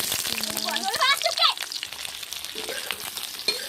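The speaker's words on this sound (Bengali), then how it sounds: "পেঁয়াজ, আদা, রসুন আর গোটা জিরা একটু ভালো করে ভেজে নিলাম।" Onion, ginger, garlic and whole cumin frying in hot oil in a kadai, a steady close sizzle with some stirring scrapes; the loudest part comes early and eases off toward the end, with brief voice-like sounds mixed in.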